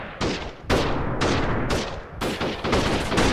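Rapid bursts of gunfire in a guerrilla warfare video game, several loud volleys cracking in quick succession across an open field with no talk over them.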